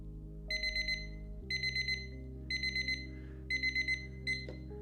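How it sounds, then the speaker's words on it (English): Timer alarm going off during a restorative flow yoga class, a clear electronic beeping in regular groups of four quick pulses repeating about every second over a soft steady background hum. "There's our timer."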